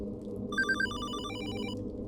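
A telephone rings once in the Hollowbody survival horror game, a short electronic trill rising over a low droning ambient backdrop.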